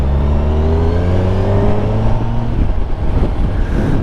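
Kawasaki Ninja 1000SX motorcycle engine under way, revving up through the gears with quick-shifter changes, a loud close droning whine with rising pitch that drops off, blending into wind and road noise.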